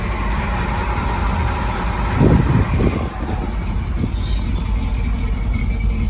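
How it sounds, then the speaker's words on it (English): A truck with an Edelbrock carburetor runs steadily at close range, a continuous engine drone with a brief louder swell partway through, alone without talk. "Just a nice running truck."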